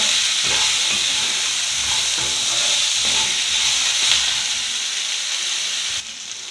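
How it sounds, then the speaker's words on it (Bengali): Potatoes frying with onions in a pan for a Bengali prawn dish, giving a steady, loud sizzle and hiss throughout, with occasional stirring scrapes and no voices. "আলুগুলো ভালো করে ভেজে নিয়েছি পেঁয়াজের সাথে"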